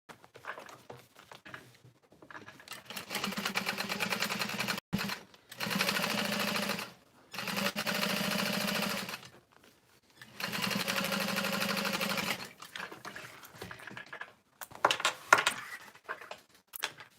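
A sewing machine top stitches through the seam allowance of a tote bag's middle panel, running in several steady bursts of a few seconds each with quiet pauses between, close and clear.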